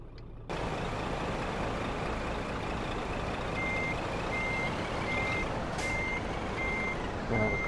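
Vehicle reversing beeps in the Euro Truck Simulator game, a steady electronic beep repeating at an even rhythm over a loud, constant truck engine rumble and hiss.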